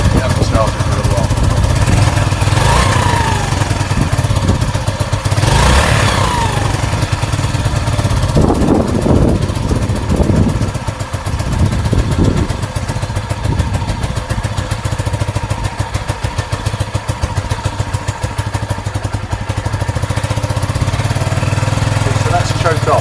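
A Sinnis SC125 motorcycle engine runs on choke on a cold spring day, a loud steady putter and chug with mechanical clatter close by, while someone talks over it at times.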